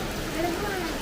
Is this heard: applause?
no